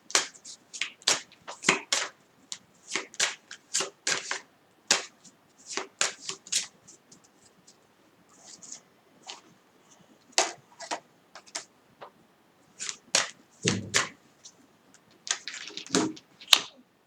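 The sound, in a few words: shuffling a tarot card deck (Tarot Zen)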